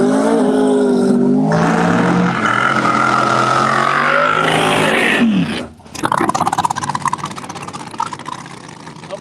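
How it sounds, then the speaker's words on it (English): Pro Mod drag racing car roaring past at Cecil County Dragway, a loud, continuous engine howl that sweeps by close, cuts out abruptly near the end, then leaves crackling after-noise. "Collins machine coming by."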